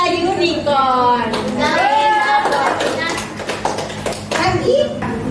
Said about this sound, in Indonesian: Tepuk tangan untuk barang-barang.